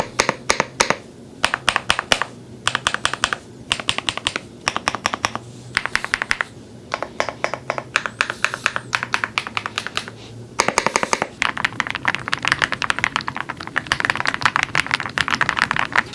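Rapid typing on a Mechlands mechanical keyboard: dense, crisp key clicks in uneven bursts with short pauses, close and fairly loud, with no voices.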